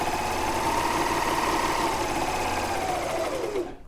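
A Britannia sewing machine stitching fabric runs in one steady, close whirring burst of rapid needle strokes for a few seconds, then stops abruptly.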